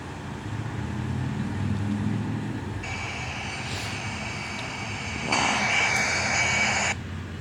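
Airbus A320 jet engines at takeoff power in the Infinite Flight simulator, a steady broad roar with a whine that rises midway and swells louder near the end before easing back.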